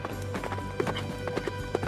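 Cartoon sound effect of a horse galloping away, a steady run of quick hoofbeat clip-clops with a few sharper accents, fairly close and moderately loud, with no talking.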